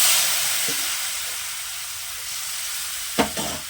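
Dal goes into a hot pan and sizzles with a loud, broad hiss that fades gradually. Two short clanks of utensil against pan are heard, with a sharper one near the end.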